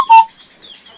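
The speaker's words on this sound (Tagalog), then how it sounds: "Ang ganda ng ibon." A single bright bird chirp rings out close by, followed by fainter high twittering, with several birds gathered around a person in a brief, quiet moment.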